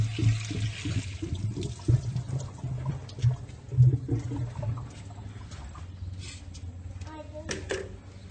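Water splashes from a bucket over an engine during washing, arriving in several uneven gushes and trickles, close and moderately loud.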